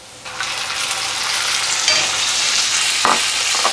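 Onions sizzling in a pan as tomatoes go in, the frying swelling louder after a quiet start, with a couple of sharp knocks from the pan or utensil, and no talk.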